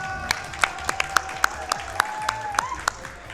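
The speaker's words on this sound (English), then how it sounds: "A round of applause." Scattered claps ring out at a steady pace during player introductions at a game event, around a dozen sharp hits over a continuous murmur with a faint tone running underneath.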